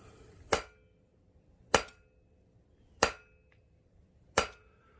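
Four evenly spaced ringing hammer strikes on a copper bangle over an anvil, each a sharp metallic clang with a short decay, alone in a quiet workshop.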